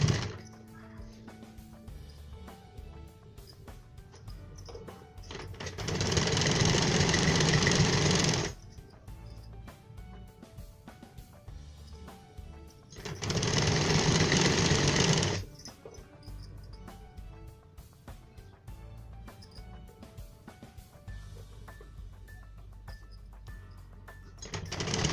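A sewing machine stitches a folded blouse sleeve edge in two steady runs of rapid whirring, each a few seconds long, separated by quiet handling sounds.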